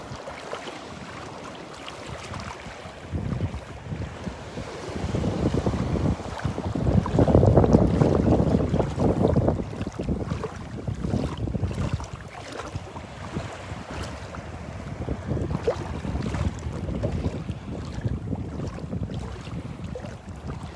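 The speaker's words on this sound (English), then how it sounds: "The waves are knocking me around here every once in a while." Ocean waves at Delnor-Wiggins beach, heard up close from within the water: continuous sloshing surges that swell loudest midway, under heavy wind rumble on the microphone, with no voices.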